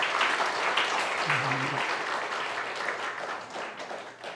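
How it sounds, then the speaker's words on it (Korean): A church congregation applauds to welcome a visitor, with steady mid-level clapping filling the room while a voice briefly speaks underneath. "우리 박수로 환영하도록 하겠습니다"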